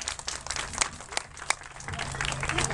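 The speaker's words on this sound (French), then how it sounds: "Vous pouvez l'applaudir." Applause from a picnic gathering in Marseille after a graduate is introduced, a dense patter of clapping with a few sharp louder claps, steady throughout and rising slightly toward the end.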